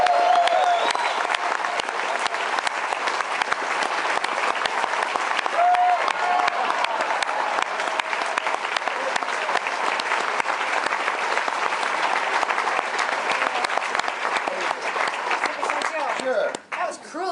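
A convention panel crowd in Chicago applauds continuously as a performer is introduced, a dense, even wash of clapping that holds steady for a long stretch before cutting off.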